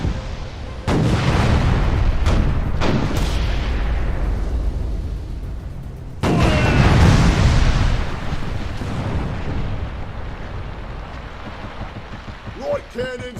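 Cannon fire in the pirate video game Furious Seas: two heavy booming volleys that roll on for several seconds each, with sharp blasts scattered between them, loud and close.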